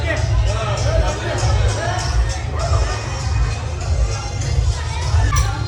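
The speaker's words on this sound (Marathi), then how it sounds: "हे बघा खूप गर्दी आहे इकडे." Large crowd gathered for a palanquin procession on a pilgrimage, a dense murmur of many voices with scattered shouts and cheers, people talking nearby over a steady low rumble.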